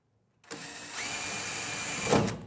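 A power drill whirs steadily for about two seconds, driving a screw into a wooden rear door panel inside a campervan, rising slightly near the end before cutting off.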